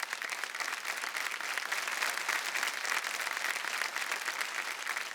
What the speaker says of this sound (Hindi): जोरदार तालियां आप।